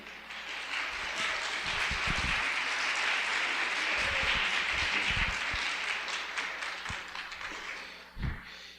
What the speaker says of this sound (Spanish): Entonces les pido los recibamos con un aplauso.